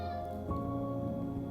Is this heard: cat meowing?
yes